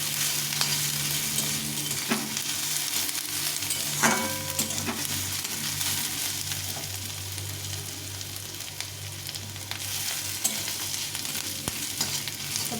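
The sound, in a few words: crushed grated ginger frying in oil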